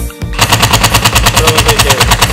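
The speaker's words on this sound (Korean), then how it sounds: "이게 부하가 딱 걸려서 멈추면 한 1초 후에 임팩트가 걸려요." DeWALT cordless impact driver hammering under load, a loud rapid burst of repeated impacts that starts abruptly and continues steadily for about two seconds.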